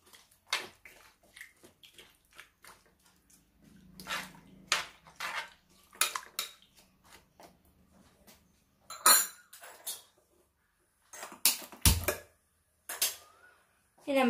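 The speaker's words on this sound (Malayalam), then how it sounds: "നമുക്കൊന്ന് മിക്സ് ചെയ്യാം." A homemade curry of taro and dried fish being stirred in a pot, with repeated scraping and clinking of a spoon against the metal pot and some wet sloshing, close and irregular amid brief pauses.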